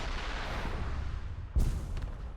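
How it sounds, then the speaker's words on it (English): A tank cannon in War Thunder fires a single round, one sharp, heavy boom with a low thump cutting through a steady engine and ambient rumble, then a brief echoing tail. "Oh, he fires this one round."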